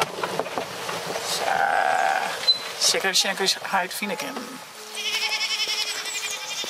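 Young goats bleat loudly nearby, in two drawn-out wavering calls, one early and one near the end, with a person speaking in between and over them.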